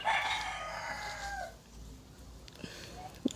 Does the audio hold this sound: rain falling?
no